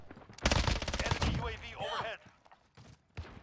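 Rapid automatic gunfire rattles in a Call of Duty: Modern Warfare match. A dense burst of close shots lasts over a second, followed by mechanical clatter and a few scattered shots, with some speech mixed in.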